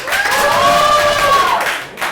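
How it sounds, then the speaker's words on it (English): Audience at an improv comedy show claps steadily for a couple of seconds, a moderately loud wash of hands with faint cheering that fades briefly near the end. "And a round of applause for portrait."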